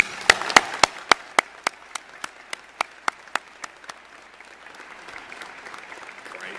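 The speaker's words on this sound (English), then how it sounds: "please let's begin with a round of applause for the Dakota State Class of 2015" A commencement crowd greets the Dakota State University graduating class with applause, a burst of dense clapping punctuated by loud regular claps from someone close by that fade out over several seconds.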